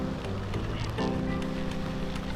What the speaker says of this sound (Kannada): ಇದು ಮಳೆ ಚೂರು ಜಾಸ್ತಿ ಆಯ್ತು ಮಾತ್ರ